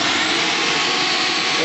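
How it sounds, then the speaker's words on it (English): Vacuum cleaner sealed inside a plastic bag with a second blower running, part of a homemade barometric vacuum chamber test: a steady, loud, broadband motor roar, constant and close, with no break and nothing else over it. "put the vacuum cleaner inside of a plastic bag, and then hooked the bag up to another blower"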